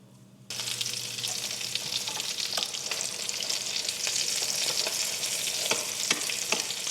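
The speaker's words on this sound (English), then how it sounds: "Cook the chicken about 3 minutes per side until it's crispy on both sides and golden" Chicken katsu frying in oil in a pan, a loud continuous crackling sizzle with dense pops and spits, starting abruptly and holding steady close up.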